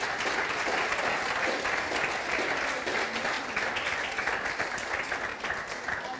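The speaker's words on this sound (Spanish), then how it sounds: "Yo creo que esto se merece un aplauso." Steady, dense applause from a church congregation during a Spanish-language worship service, loud and sustained throughout with no break.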